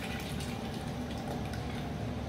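Cream with 30% fat pours steadily into a pot for a pumpkin soup, a soft continuous liquid splashing and gurgling heard up close without any talk.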